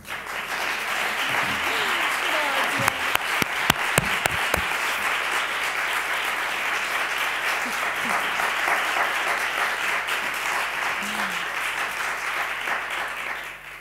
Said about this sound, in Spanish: te vamos a dar un aplauso enorme